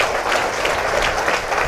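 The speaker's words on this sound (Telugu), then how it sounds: "దయచేసి గట్టిగా క్లాప్స్ కొట్టి వినండి." A large audience at a motivational talk claps loudly, a dense continuous wash of applause that stays steady and full throughout with no voices over it.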